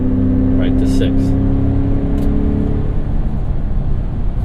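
A 2017 Ford F-150 Raptor's EcoBoost engine pulls hard under acceleration, a loud, steady low drone heard from inside the cab with road noise underneath.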